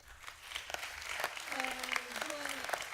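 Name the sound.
applause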